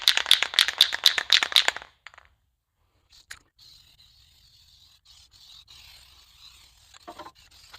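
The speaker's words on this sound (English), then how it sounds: "I'm using some rust converter. So I'll spray it on." Aerosol can of rust converter being shaken, a fast burst of loud metallic ball rattles, followed by a soft, faint hiss of spraying.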